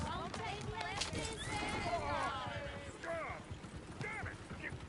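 Horses in Red Dead Redemption 2 whinny and neigh repeatedly over the clatter of hooves, with character voices talking over the busy scene.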